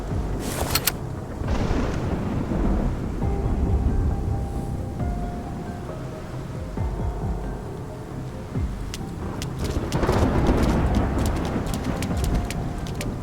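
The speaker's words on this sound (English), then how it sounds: "It's just the rain" Steady rain with low rumbling thunder in the Love and Deepspace video game, a continuous dense wash that swells around the start and again near the end, with no talking.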